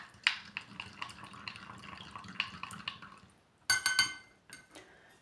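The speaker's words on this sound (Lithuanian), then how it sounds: "Gražiai išmaišome." A drink mixture is stirred in a glass with a little water, giving quiet, irregular clinks and taps of a spoon against the glass, with a sharper burst of clinking near the end.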